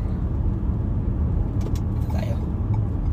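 City road traffic near Kingdom Tower in Riyadh makes a steady, dense low rumble of engines, with a brief hiss and clatter partway through and no voices.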